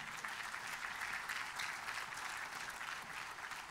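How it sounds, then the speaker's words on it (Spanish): A church congregation at a Spanish-language service applauds in a steady, dense wash of clapping that holds evenly throughout, fairly faint and distant. "Dele un aplauso a Jesús"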